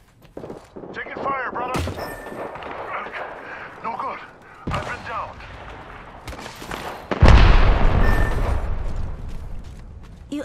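Gunfire rattles in a tense Apex Legends fight, with sharp shots and heavy bursts that grow loud and dense in the second half. Game voice lines and speech run under and between the shots.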